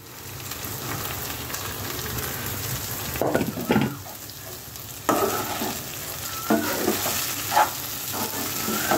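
Flattened rice (atukulu) being stirred and mixed in a pan for upma after salt is added, giving a steady close sizzle and rustle with a few louder scraping stirs, with no talking.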